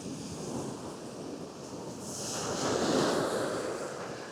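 Surf washes onto a long beach in a steady, soft roar, swelling slightly midway, distant and mixed with light wind, with no voices.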